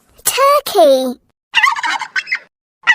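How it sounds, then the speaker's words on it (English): A farm turkey gobbles loudly and close by in two quick bursts of warbling calls, then a rapid rattling gobble after a short pause, with a last call starting at the end. "Turkey."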